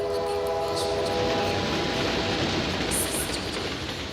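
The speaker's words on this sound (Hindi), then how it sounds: "ट्रेन ब्रिज पे से गुजर रही है" A train crosses a railway bridge with a loud, continuous rumble of wheels and cars; a horn sounds briefly at the start before the heavy clatter carries on alone.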